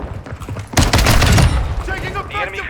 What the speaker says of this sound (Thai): มีเสียงลูกซองด้วยฮะเกือบไปแล้ว